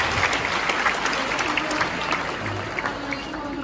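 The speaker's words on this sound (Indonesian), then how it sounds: "Berikan tepuk tangan." Crowd at a lecture event at Universitas Negeri Padang breaks into sustained applause, dense clapping from many hands filling the room for several seconds, fairly loud and continuous, with faint voices underneath.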